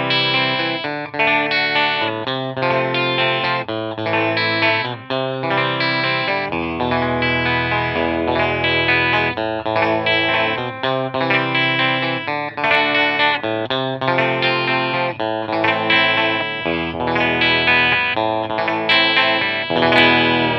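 An electric guitar, a Fender Jaguar Classic Player Special HH on a clean setting, plays a steady, continuous chordal passage with a bright, shimmering tone, loud and sustained, with no speech over it.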